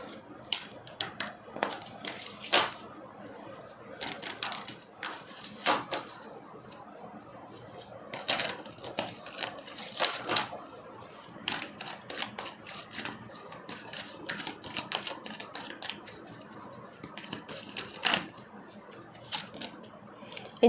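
Tarot cards are handled and drawn during a reading, with soft, irregular flicks, taps and shuffling rustles close to the mic, scattered across a quiet background.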